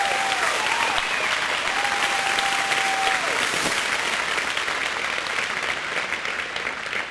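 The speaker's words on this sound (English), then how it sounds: "would y'all please give another round of applause to Congressman Joe Wilson." A crowd at a Faith & Freedom BBQ applauds Congressman Joe Wilson, with dense, sustained clapping filling the whole stretch at even loudness.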